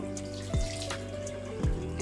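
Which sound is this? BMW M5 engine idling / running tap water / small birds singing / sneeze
running tap water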